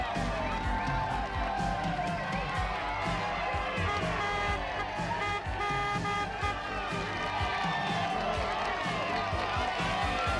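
An enormous roadside crowd cheers and shouts continuously as a rider crests the top of a mountain climb in the 1990 Tour de France, a dense, loud wall of voices with vehicle noise mixed in.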